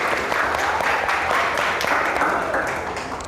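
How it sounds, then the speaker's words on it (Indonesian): A classroom of students applauding together at the end of a lesson on faith in divine decree, steady dense clapping filling the room for a few seconds with some chatter mixed in. "beri tepuk tangan untuk kita semua"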